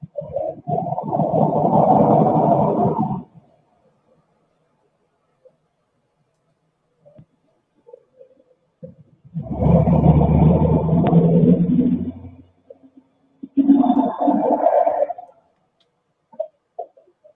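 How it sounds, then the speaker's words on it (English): A truck engine playing back from a recording: three loud separate bursts of rumbling engine noise, the longest at the start, with near-silence between them. "let's listen to this truck. Listen to the truck."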